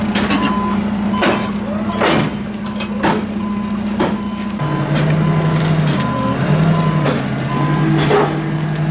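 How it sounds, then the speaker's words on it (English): A vehicle backs up, its reversing alarm repeating loud, evenly spaced beeps over a steady low engine drone, with sharp clanks and knocks breaking in between the beeps. "Backing up this car."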